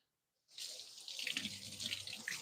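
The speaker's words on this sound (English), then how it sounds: "let me rinse this off" Water from a running kitchen tap pours steadily as something is rinsed beneath it, a close, continuous splashing hiss that starts abruptly after a brief silence.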